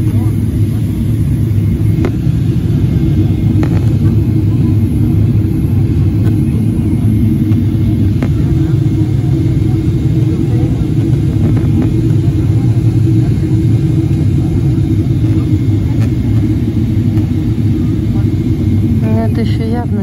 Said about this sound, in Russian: самолет идет на посадку в Дубае.